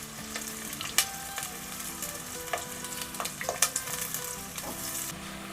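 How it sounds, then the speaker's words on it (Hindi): Coarsely chopped onions fry lightly in oil for white beef keema, a steady crackling sizzle with scattered pops and the scrape of stirring, with no voices. "तो ये डाल देंगे ऑयल में। प्याज को भी मैंने हल्का सा फ्राई करना है"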